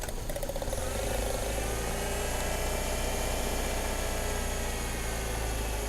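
A Saturn S-Series engine runs on at a steady idle with one spark plug wire pulled, a continuous low drone with broadband mechanical hiss, close and loud throughout.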